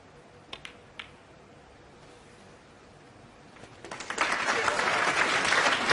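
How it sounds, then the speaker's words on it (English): A few isolated claps in a hushed snooker arena during a Ronnie O'Sullivan versus John Higgins Champion of Champions match swell after a quiet stretch into loud, sustained audience applause that carries to the end. "Applause"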